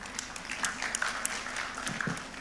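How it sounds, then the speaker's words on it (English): A panel-discussion audience at a blue-economy forum gives soft, patchy applause, a few distinct claps standing out against a muffled background murmur. "give a big applause to Mr."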